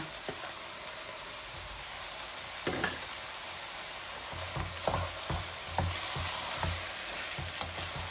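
Large rooster chicken pieces coated in chili and spices fry in a pan, a steady soft sizzle with occasional stirring scrapes and clatters, no talking.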